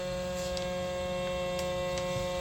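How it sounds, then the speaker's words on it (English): A vacuum sealer runs steadily while sealing bags of potatoes, giving a constant low motor hum with faint clicks and no talking. "So set the vacuum seal."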